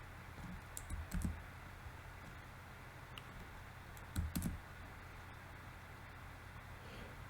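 Ctrl and Z keys pressed on a computer keyboard in a quiet room: two small clusters of soft, close clicks, roughly three seconds apart, against faint background hiss.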